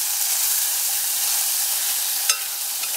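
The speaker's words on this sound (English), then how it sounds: "And saute a little bit. Till the onion becomes sort of transparent." Onion sautéing in a pan, a bright steady sizzle and hiss close up, with one brief sharper crackle near the end and no voices.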